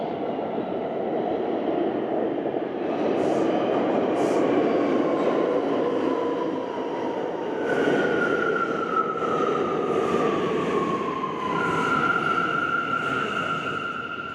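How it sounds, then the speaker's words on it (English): A subway train pulls into an underground station below Central Park West in New York, a loud steady rumble building with rising metallic squeals of brakes and wheels as it arrives. "You can hear the train coming."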